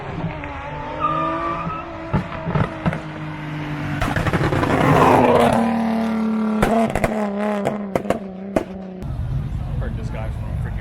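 Loud engine noise from modified cars at a car meet, including drag-pack cars and a single-turbo Nissan 370Z. Engines rev and surge with sharp bursts and tire squeal, the sound swelling in the middle, while people talk over it.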